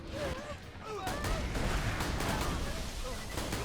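Rapid gunfire from Maya's gun in Borderlands 2, a steady run of overlapping shots and blasts through the clip, with game effects and a faint voice mixed in.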